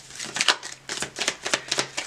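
Tarot cards being shuffled by hand, a run of about eight quick crisp riffling bursts at a steady rhythm, close and moderately loud, with no talk over them.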